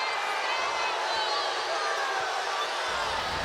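An Indiana arena crowd at a WNBA basketball game roars in steady, loud displeasure at a foul call, a dense wash of voices filling the whole moment.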